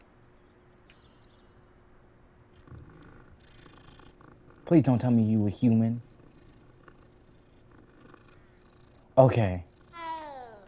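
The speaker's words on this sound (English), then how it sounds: "It's a cat!" Cat in Hogwarts Legacy giving a low, steady purr under a player's talk, then a few sharp meows close by, the last one rising and falling.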